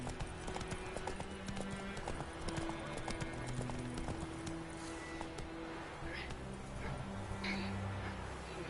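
In a PS4 video game, the horse Roach runs with steady, rhythmic clip-clopping hooves close by and a brief whinny partway through, set against a constant game background.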